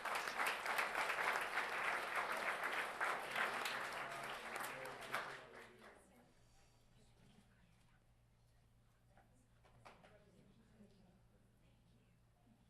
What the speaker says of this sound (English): Let's have one more round of applause for Todd and her team at Community Education.